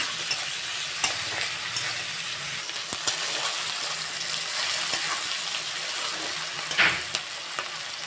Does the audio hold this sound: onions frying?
yes